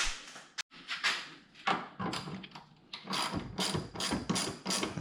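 A ratchet with an 8mm socket clicks in quick bursts on a Dodge Challenger Hellcat during a cold air intake install, the pawl rattling close and loud with short pauses between turns.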